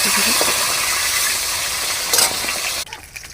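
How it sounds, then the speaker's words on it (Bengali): Large pieces of fish frying in a pan of oil make a loud, continuous sizzle. A brief scrape of stirring sounds near the end, and then the sizzle quickly fades. "বড় বড় মাছগুলোকে ভেজে নিচ্ছি"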